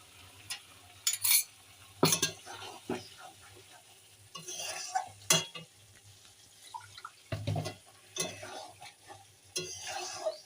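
Water splashes into a cooking pot, followed by several scraping stirs of a spoon against the pot, with intermittent clatters close by and no voices.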